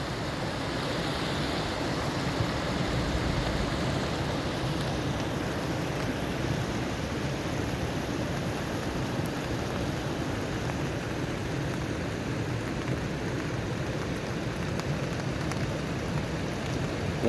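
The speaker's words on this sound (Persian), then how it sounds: "آن یک شرشره خوب دیگه جدا است." A waterfall in the Tavildara mountain countryside of Tajikistan rushes in a steady, even hiss that never lets up, close and moderately loud like heavy rain, with no voices over it.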